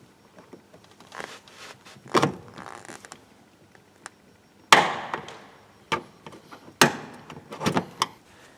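Plastic trim clips on a Peugeot 307 front driver's door panel give sharp, scattered clicks and pops as the panel is pried loose with a screwdriver, with several louder snaps amid quieter handling noises.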